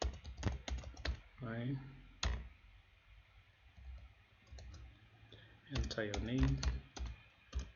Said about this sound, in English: So I'm gonna type in something here